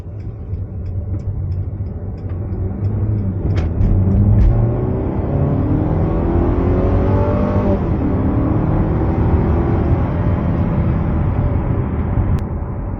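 A 2018 Mercedes-Benz GLC200 with a 2-litre engine accelerates hard on a main road, its engine note rising steadily and staying loud and close over constant road and tyre roar for the whole stretch.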